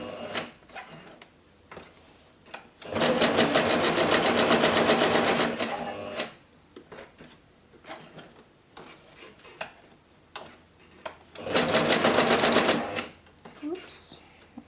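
A sewing machine stitches fabric scraps in two loud, steady bursts of rapid mechanical whirring, with quieter handling clicks and a voice talking between the runs.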